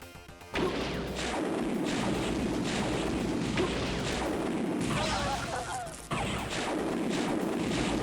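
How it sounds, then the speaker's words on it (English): Incoming gunfire aimed at the player in System Shock Enhanced, Looking Glass Technologies' 1994 shooter: a sharp crashing hit opens a rapid, unbroken stream of harsh, clattering shots and impacts that continues loud and steady, briefly dipping before resuming. "I don't even know who's shooting me."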